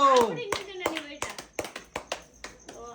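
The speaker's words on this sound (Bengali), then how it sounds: "জোরে হাততালি হোক সার্জিনার জন্য" A family claps for Sarjina during a sandal challenge, a run of sharp handclaps that thin into scattered separate slaps while voices talk and call out over the start.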